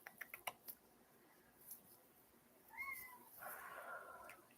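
A few quick clicks like keyboard taps come first, then a house cat gives a short meow and a longer, wavering caterwaul-like cry at moderate volume.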